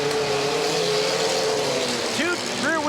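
Rear-wheel drive Toyota race cars roar around a dirt track, their engines loud and steady, with a commentator talking over the noise throughout.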